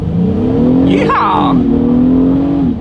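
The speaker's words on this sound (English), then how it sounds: "let's do a quick little acceleration with it in sport driving mode" Engine of a 2023 Acura MDX revving hard under acceleration in sport driving mode, a loud, steady rising drone heard from inside the cabin, with one brief gear-change dip partway through and no talk over it.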